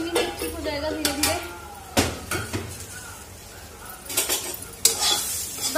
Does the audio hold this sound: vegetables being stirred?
yes